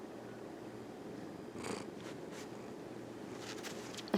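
A cat purrs close up in a steady, rumbling rhythm, with a few soft rustles and small noises over a quiet background.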